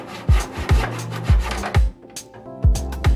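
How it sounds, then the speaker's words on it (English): A handsaw cuts plywood for a DIY modular synthesizer case in close, loud rhythmic strokes, about seven rasping pushes with short gaps between them. "I take some plywood and cut the plywood"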